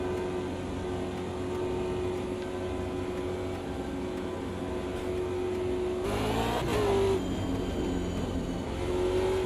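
A V8 race car engine in a racing video game holds a steady, loud drone, then its revs climb sharply and settle again, with no one talking.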